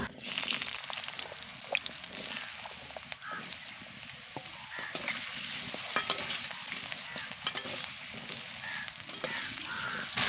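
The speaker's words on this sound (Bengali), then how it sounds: "এই আলুগুলোকে প্রথমে আমি ভেজে নেব" Small potato pieces fry in hot oil in a home kitchen, giving a faint, continuous sizzle broken by scraping and clinking as they are stirred, with no voices.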